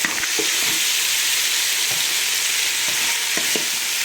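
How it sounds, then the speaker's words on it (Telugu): Chopped tomatoes fry in hot oil in a pan while mutton dum biryani is prepared, a steady close sizzle broken by a few soft stirring knocks. "శుభ్రంగా కలుసుకుందాం మూతెట్టేసి టమాటాలు మగ్గనిద్దాం"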